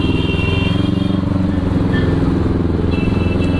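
A Kawasaki Ninja 300 races on a public road, its engine droning loud and close with a steady throaty roar, rising slightly in pitch toward the end amid passing road noise.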